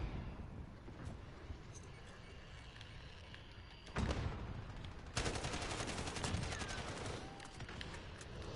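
Gunfire from Call of Duty Modern Warfare, with sharp bursts and rapid volleys starting a few seconds in and continuing as dense clustered shots over a steady game background, with no talk.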